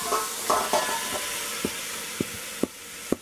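Pigtails hit hot oil with hot pepper and garlic, giving a loud continuous sizzle and hiss up close, broken by a few soft knocks from a spoon against the pot.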